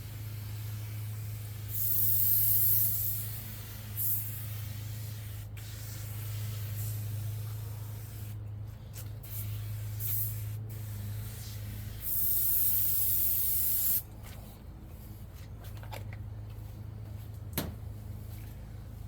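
Simple Green cleaner sprayed from a bottle onto a greasy grill in several separate hissing bursts, with small clicks and handling noises between them over a low steady hum.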